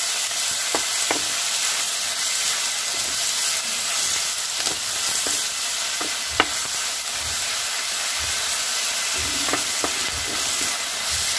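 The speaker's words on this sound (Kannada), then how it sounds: "ಮೆಂತ್ಯ ಸೊಪ್ಪು ಮತ್ತು ಈರುಳ್ಳಿ ಒಟ್ಟೊಟ್ಟಿಗೆ ಬೇಯ್ಕೊಳ್ಳುತ್ತೆ." Fenugreek leaves and onion fry in a pan, giving a continuous soft sizzle and hiss that is broken by occasional scraping and stirring knocks from a spatula, with no voices.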